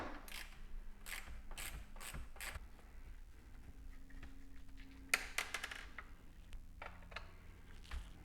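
Screws being backed out of the plastic covers on a Ryobi S430 string trimmer, a series of close, soft ratcheting clicks and creaks in rhythmic bursts, with quieter gaps and a few sharper ticks near the end.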